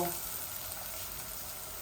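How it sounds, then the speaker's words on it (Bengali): Chicken frying in a pan of already fried onions, a close, steady sizzle with light stirring across a brief moment, heard alone. "এই যে আমার পেঁয়াজগুলা ভাজা হয়ে গেছে এখন আমি চিকেনটা ফেলে দিব"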